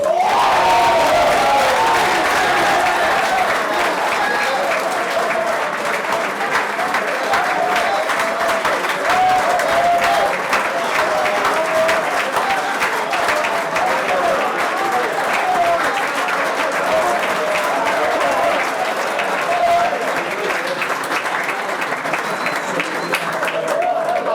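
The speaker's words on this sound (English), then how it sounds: "please join me in congratulating Springfield's Kyle Johnson." Sustained audience applause filling the room at a men's volleyball championship banquet, loud and steady, with some cheering and crowd voices mixed in as the clapping carries on.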